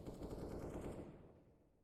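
Rapid automatic gunfire from a competitive match of a tactical shooter video game, loud and sustained bursts that fade into a quieter tail with no voices over it.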